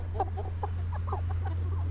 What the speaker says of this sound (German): Und die Hühner hier, die sind wirklich super zahm, die lassen sich streicheln.